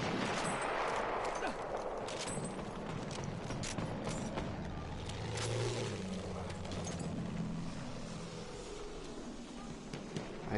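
Rapid gunfire from a fast-firing weapon in Battlefield 1, a World War I shooter, crackling in dense continuous bursts amid battlefield noise, with a player talking over it.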